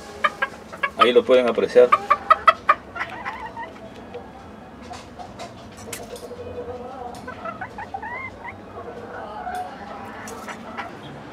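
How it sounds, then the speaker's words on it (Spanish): A small rooster clucks in a burst of close, rapid calls, then gives quieter scattered clucks, while a person talks briefly. "ahí está el gallito"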